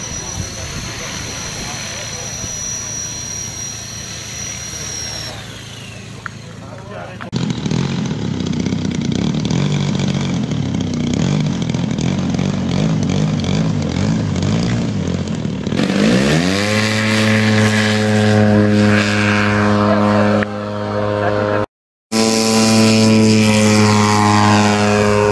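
RC model of an American crop-duster airplane, comparable to the Czech Čmelák, flies at a children's air day at an RC airfield, its engine droning steadily and rising in pitch near the end, with people talking alongside.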